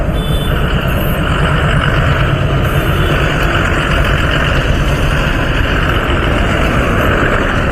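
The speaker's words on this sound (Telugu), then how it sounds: "ఇది ఏటీపీ బస్ అనమాట, అనంతపురం బస్ ఇది." An Anantapur bus on a Hyderabad street at night gives a loud, close, steady engine rumble that holds unbroken throughout, with no speech.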